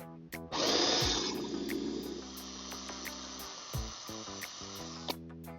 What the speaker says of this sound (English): Maybe we can drill through with a airplane bit like this, which is basically a really long drill bit.